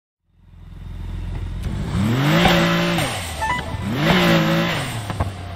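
A car in the racing video game Need for Speed Heat roars in from silence, its engine rising and falling through two loud revving surges as it speeds close by, with no talking.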